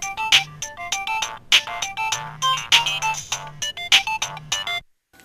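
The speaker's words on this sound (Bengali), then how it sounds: "তোমার ফোন বাজছে তো?" Mobile phone ringtone playing a loud, close melodic tune of bright repeated notes for about five seconds before cutting off.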